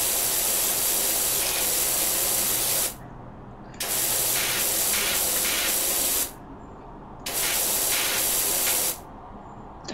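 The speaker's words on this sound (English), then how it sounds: "this nozzle might actually be a bit too wide, so I'm swapping to the 25-degree nozzle" Pressure washer blasting water onto a very dirty car bonnet, loud continuous hissing spray in three long bursts with short quieter pauses between them, no voices.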